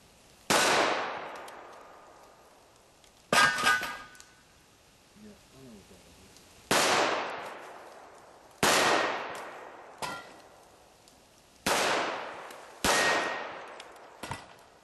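Pistol shots from a .45 firing reloads ring out at steel pepper popper targets, about seven sharp cracks spaced a second or more apart, each followed by a metallic clang and a decaying ring, with faint talk between shots.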